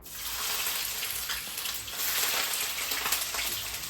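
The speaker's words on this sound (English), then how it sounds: "he had me chop up the onions, garlic, and the habanero, and now we're gonna put it in to the hot grease here" Chopped onions, garlic and habanero fry in hot grease, making a dense, continuous crackling sizzle that is close and steady throughout, with no voices.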